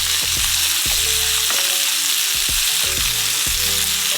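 Ribeye steak searing in hot olive oil over medium-high heat, a loud close crackling sizzle broken by sharp spits and pops of oil.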